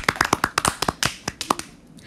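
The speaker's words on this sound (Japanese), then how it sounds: "拍手、みんな" Sparse, irregular handclaps from a small group of people, about a dozen sharp separate claps over two seconds, nearby and fading toward the end.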